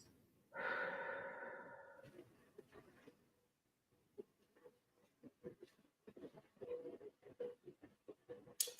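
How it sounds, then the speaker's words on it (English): Deep breathing during a calm guided session: one long audible inhale-exhale up close, followed by quieter irregular breaths and soft mouth sounds, faint overall. "Breathe it in. Releasing out."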